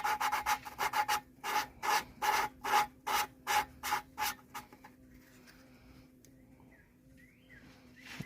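Close, rhythmic back-and-forth rasping as valves are lapped on a 1947 Plymouth Special engine, about a dozen quick grinding strokes in bursts that stop after five seconds, leaving a quiet workshop with faint hum.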